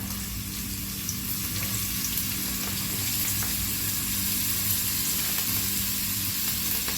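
Chopped ingredients frying in a pan over medium flame, a steady, dense sizzle that holds evenly throughout with no pauses and no talking.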